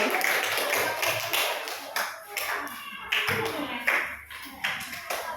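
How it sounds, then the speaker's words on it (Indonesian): A classroom of students claps for a group returning to their seats, uneven bursts of hand claps under a teacher's voice and children's chatter. "Berikan tepuk tangan yang meriah untuk kelompok 1 ya."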